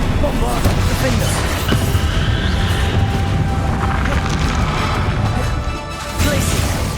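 The Bombarda explosion spell cast in Hogwarts Legacy, loud crashing blasts and booms layered in a chaotic battle, with shouted voices over a constant dense roar.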